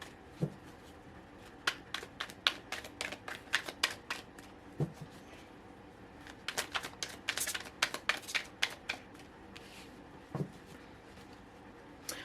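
Tarot cards are shuffled close up in quick riffling bursts and soft slaps, pausing briefly between rounds, quiet and without talk.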